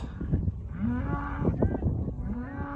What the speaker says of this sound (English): We are trying to lead our group of cows and calves